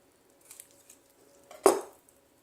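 A knife slices through ligaments on a beef hind quarter during butchering: a few faint soft cuts and taps, then one sharp, louder wet cutting scrape near the end, with no talk.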